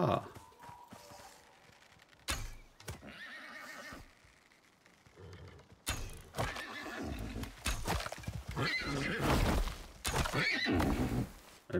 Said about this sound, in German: Irgendwo hört man da Pferd.